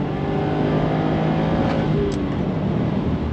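A Subaru STI accelerating hard on a race track, a dense, loud continuous engine roar heard from inside the car, without talk.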